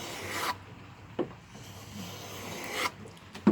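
A hand plane is pushed along an ebony guitar fingerboard in a few slow, rasping strokes, each one a soft, dry scrape separated by quiet pauses, heard close up.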